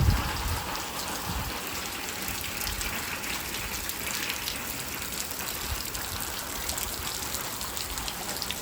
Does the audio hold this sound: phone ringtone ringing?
no